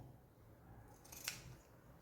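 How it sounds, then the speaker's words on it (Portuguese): Ordinary scissors cutting paper for an Easter bunny bag craft, a faint quiet snip standing out as one short crisp cut over low room noise. "Aqui eu corto com a tesoura comum."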